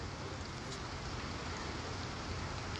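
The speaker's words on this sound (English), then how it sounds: "Constantly raining." Steady rain falls through the night during severe flooding near the Skagit River, a faint, even hiss that continues unbroken.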